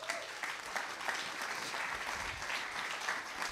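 A church congregation claps together in a steady burst of applause. The clapping is continuous and evenly spread, with no speech over it.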